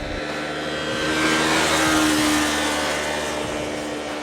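A 2015 Yamaha YZF-R3 motorcycle engine hums steadily from on board during a ride, rising gently in the middle and then easing, with wind noise and no talking.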